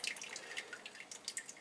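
Water leaks and drains from the tub of a faulty Kenmore washing machine, a faint, steady patter of fine drips and trickling that continues without pause.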